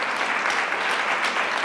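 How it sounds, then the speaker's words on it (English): Applause from a lecture audience welcoming a former Great British Sewing Bee contestant, a dense, steady wash of many hands clapping at moderate loudness throughout, with no voices over it. "Round of applause for Angeline."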